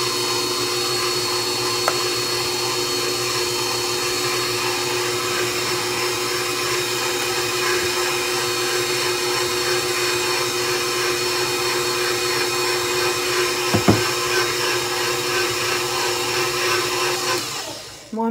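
Electric mixer beating dough of eggs, oil and flour in a home kitchen, a steady motorized whir running unbroken and close for the whole stretch, with a brief knock near the end before it cuts off.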